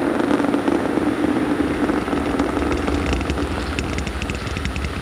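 Space Shuttle Atlantis main engines roaring at full throttle during the STS-43 launch, a steady, dense, continuous rumble with broadband noise that stays loud and unbroken throughout.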